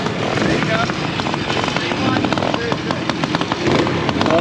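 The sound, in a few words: motorcycle sidecar outfit riding a trials section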